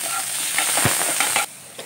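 Onions sizzle and fry in a hot pan with salt added, a steady hiss with scraping stir strokes and small pops, close and alone without talk.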